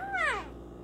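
A single short rising-then-falling meow, close and clear, from a cat shut in a kitchen with a bird nearby.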